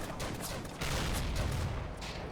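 Gunfire from the World War II strategy game Combat Mission: Afrika Korps, a rolling fusillade of overlapping shots that grows heavier midway, fairly loud with no voices.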